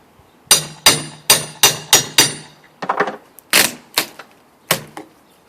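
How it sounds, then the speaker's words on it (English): Hammer driving stainless steel nails into cedar siding on a bay window installation: sharp, loud, evenly spaced blows in quick runs, then a few softer taps and more single strikes, with no talk. "Cedar I put up, and of course I nailed it with stainless nails."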